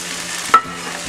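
Spices frying in a pan with ginger paste, for a koi fish curry with cauliflower, give a steady low sizzle with a single quick scrape of a spoon.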